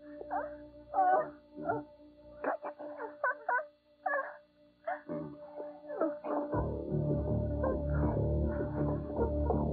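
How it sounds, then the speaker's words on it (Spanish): A dog from a 1992 action film yips, whimpers and gives short barks in a rapid irregular series, close and fairly quiet, then a louder rumbling background noise rises beneath them. "No te muevas, perro."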